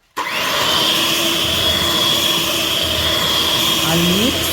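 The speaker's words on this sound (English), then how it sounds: "So I'm mixing before I add in the eggs" Electric mixer whirring as it beats batter for cardamom mini buns, starting abruptly and then running with a steady, loud motor drone, with a short pitch sweep near the end.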